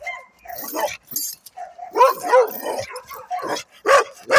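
Red male dog in a breeding setting barking loudly and repeatedly in close, irregular bursts, mixed with yips and whimpering.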